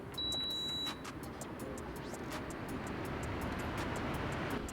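A garage air conditioner running on turbo mode gives off a steady, loud broadband whoosh of rushing air that holds even through the whole stretch, with a few short electronic beeps near the start.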